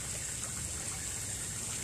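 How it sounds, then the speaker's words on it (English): Stagnant water drains out of a garden pond with a steady, continuous trickling rush, close and even throughout. "I'm currently draining a little bit of water out of the pond, trying to get some of the more stagnant water out"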